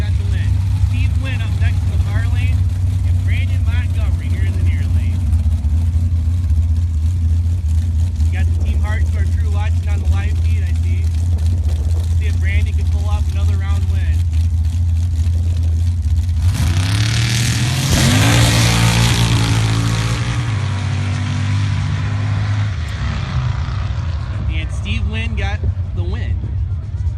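Sand drag racing cars at a pro bracket elimination event launching down the track, a loud engine roar that surges and rises in pitch as a car accelerates, with an announcer talking over it.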